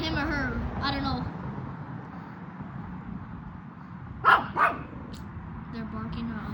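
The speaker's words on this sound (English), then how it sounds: "They're barking at other dogs." Two small dogs, a chihuahua and a pug, yap in two short sharp bursts close by, after a stretch of someone talking over a steady background hum.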